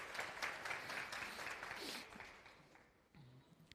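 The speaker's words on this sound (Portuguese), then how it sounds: "Palmas para ele" Audience applause in a university calculus lecture hall, a dense patter of many hands clapping at moderate distance that fades toward the end, with a brief low voice near the close.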